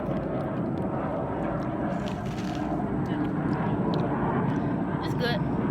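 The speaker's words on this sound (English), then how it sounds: "Sorry for the jet if you can hear it." A jet aircraft passes overhead as a steady, broad roar that fills the whole clip, loud and continuous, while people talk over it during an outdoor snack tasting.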